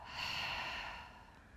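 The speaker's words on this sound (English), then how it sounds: "Open the mouth, exhale a full breath out." A single full breath exhaled through the open mouth during a power yoga session, a soft airy whoosh that swells and slowly fades, close and quiet with no talking.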